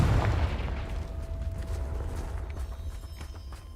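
A Confringo blasting spell goes off in Hogwarts Legacy, a loud close boom at the start whose rumble slowly fades out, with crackling debris after it and no voices.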